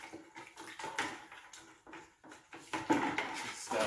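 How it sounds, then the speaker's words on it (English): A plastic car trim piece for a 1988-91 Honda Civic/CRX is rinsed under running water, with uneven splashing and patter that comes in bursts and grows louder toward the end, close and fairly quiet. "We'll rinse it off one more time."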